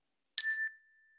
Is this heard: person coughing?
no